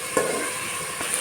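Moringa drumsticks and potato pieces sizzle in hot oil for a Bengali katla fish curry, a steady close hiss with a couple of soft stirring bumps and no talk.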